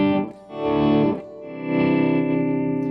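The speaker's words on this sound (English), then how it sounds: "that's when you hit your strings and then you pull the volume up" Telecaster electric guitar notes swelling in from silence as the volume is rolled up, run through distortion, chorus and echo effects, giving two or three smooth, reverse-like rises that are close and loud.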